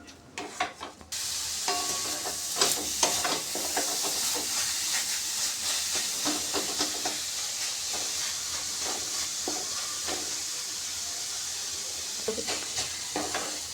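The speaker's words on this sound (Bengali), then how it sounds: "মিডিয়াম ফ্লেমে রেখে আমি এটাকে একটু নাড়াচাড়া করে নেব, গাজরের কাঁচা গন্ধটা যতক্ষণ না যায়।" Grated carrot stirred in a pan over a medium flame, a steady close sizzle and hiss with repeated scraping strokes of a spoon running through the mixture, no voices.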